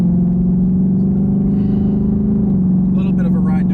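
A 100 horsepower vehicle pulls away with a steady, loud low engine drone that shifts slightly in pitch, and a brief burst of rising whine near the end.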